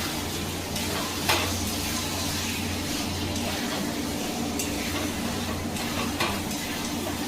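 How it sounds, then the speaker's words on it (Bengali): Potato posto in poppy seed paste is stirred in a pan after a drizzle of mustard oil, a soft, even sizzle with occasional light scrapes and knocks against the pan, a low hum underneath. "উপর থেকে সর্ষের তেল ছড়িয়ে নেড়ে দেব"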